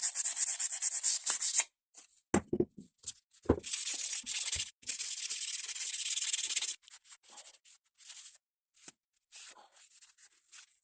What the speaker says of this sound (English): Just a bit of fine wet and dry sandpaper